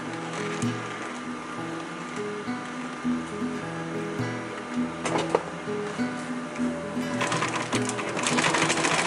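A sewing machine hums and clatters through a steady run of stitches on a rollup backpack's bottom panel, close by, with a few heavier mechanical knocks partway through and a louder burst near the end.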